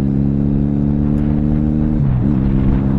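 A rebuilt motorcycle engine runs loud and close in a steady idle drone, with a brief dip in pitch near the end before it settles back, and no voices.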